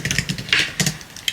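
Quick bursts of typing on a computer keyboard as a prompt is entered, close and crisp with short pauses between key clusters, no talk.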